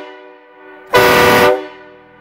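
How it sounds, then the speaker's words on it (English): A single loud, harmonic train horn blast from an onboard air system on a Ford F250 Super Duty sounds for about half a second, abrupt and close, with a fainter tonal hum before and after. "And then you got the loco train horns."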